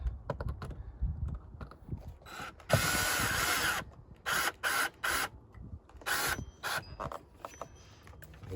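An electrician's screwdriver or drill tightens screws to fasten an electrical outlet to its box, giving short bursts of whirring and clicking separated by brief pauses, close and fairly quiet.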